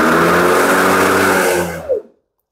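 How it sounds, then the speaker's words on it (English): Electric blade motor of a robot lawnmower, started by touching bare wires together, whirs loudly and steadily with a harmonic hum for about two seconds, then cuts off and winds down quickly into silence. "we have the motor running"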